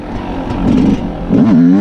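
A Yamaha YZ125 dirt bike engine in first gear idles low and then revs up twice in short bursts, rising in pitch, close and fairly loud.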